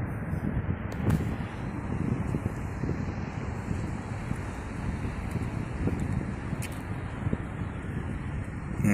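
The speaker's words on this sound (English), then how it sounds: "And there goes that damn wind again." Wind blows at the Lake Michigan shore in Chicago, a steady rough rumble buffeting the microphone without pause throughout.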